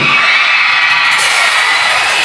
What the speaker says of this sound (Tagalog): Isang hiyawan mga single!